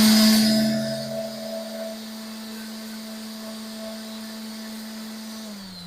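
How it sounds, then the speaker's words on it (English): An electric sander smoothing a glue-filled gap on a wooden bandsaw box, a steady motor whine with a droning tone that fades slightly and stays even to the end. "And then I'll run this sander over it."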